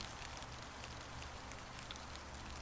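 Steady rain patters on a surface outside a shabby building with rotten wooden planks, a constant soft hiss with scattered drops, even and unbroken throughout.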